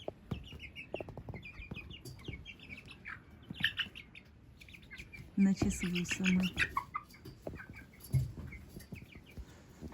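Young silkie chickens in a greenhouse give scattered soft chirps and clucks, with a few louder calls partway through. Someone talks intermittently over them.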